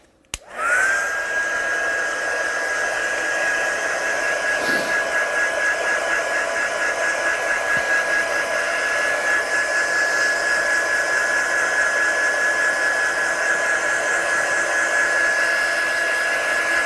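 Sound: heat gun drying ink on a stamped card

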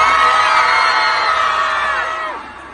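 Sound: fans screaming and cheering at live event

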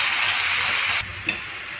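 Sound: onions frying and being stirred apart in pan for mutton fry

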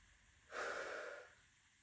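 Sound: exhaling breath during a breathing exercise

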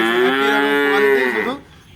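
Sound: cattle mooing

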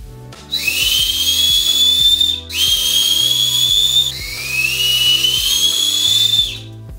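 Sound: loud 3D printed whistle being blown

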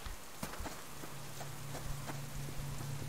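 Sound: rain falling in the video game Subsistence

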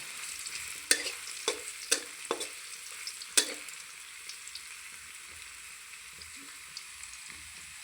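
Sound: potatoes frying in a pan

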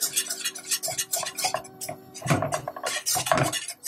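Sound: whisking a roux sauce in a pan

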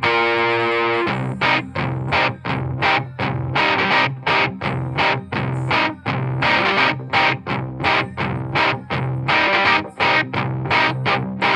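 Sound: overdriven Gibson 335 guitar solo part

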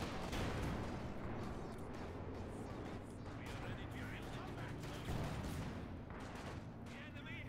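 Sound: Katyusha rocket artillery firing, from a video game

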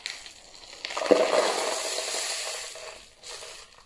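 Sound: rice and pasta poured into a homemade shaker

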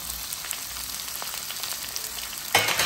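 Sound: ivy gourd pieces sizzling as they fry in tempering

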